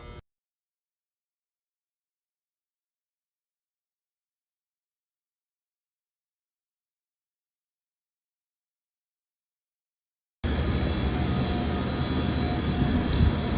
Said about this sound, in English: your fan is kind of waiting to boot up, and you're just going to start getting some airflow in a second